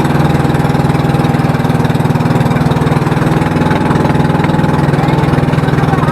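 Motorboat engine running on a boat trip at Hundred Islands, Alaminos, Pangasinan, a loud, steady mechanical drone with a fast, even throb and no pauses.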